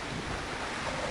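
A splash from falling into water in Half-Life: Opposing Force, heard as a broad, steady wash of watery noise lasting about a second, fairly loud and alone with no talk.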